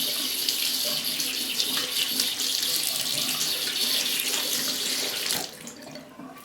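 Tap water runs steadily into a sink while a trumpet mouthpiece is washed, a loud, continuous splashing stream that cuts off abruptly near the end, leaving a quieter trickle.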